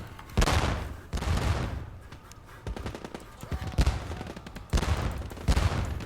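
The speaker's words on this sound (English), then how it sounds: "I'm going to go ahead and open fire on that machine gun" Bursts of machine gun fire in the Korean War game Theatre of War 3 Korea, several rapid rattling volleys with short pauses between, loud and close over battlefield ambience.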